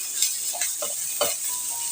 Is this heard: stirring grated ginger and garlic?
yes